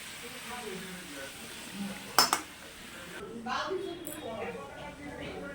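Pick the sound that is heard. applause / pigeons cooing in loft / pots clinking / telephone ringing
pots clinking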